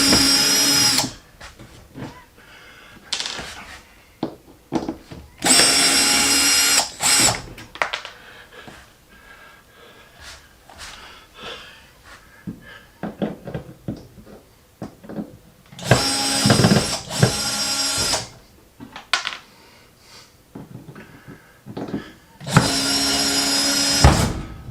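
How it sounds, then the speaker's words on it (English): A screw gun backs screws out of an RV fireplace surround in a Grand Design Solitude, in several loud close bursts of whirring separated by quieter handling clicks and knocks. "Now I'm going to use a screw gun to dig them off"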